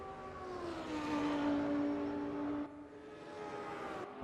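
A wailing pit lane entry warning siren at Monza in a GT3 racing game, its steady tones ringing loud for about two and a half seconds over engine noise, then cutting off as the engine drone continues.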